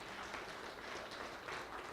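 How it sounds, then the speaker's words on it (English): Audience applause at an award function, a steady wash of clapping from a crowd heard faintly and evenly across the whole moment. "I think this deserved a big round of applause, ladies and gentlemen"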